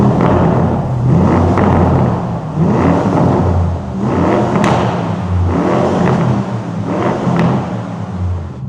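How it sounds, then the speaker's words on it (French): A biturbo V8 car engine in Corsa mode with its exhaust valve open, idling with a deep steady rumble and swelling into several loud revs and blips close by, with no talking. "Vous allez voir le ralenti en Corsa, clapet ouvert."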